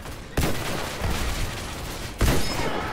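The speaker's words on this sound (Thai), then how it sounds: "นั่นแหละคือวิธียิงปืนรู้ไหม" Gunfire in the Roblox video game: two loud, sharp bursts of shots roughly two seconds apart, each followed by a sustained crackling rattle of fire.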